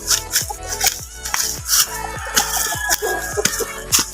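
Chickens cluck and squawk close by in quick, repeated bursts, with a rooster-like call mixed into the busy farmyard noise.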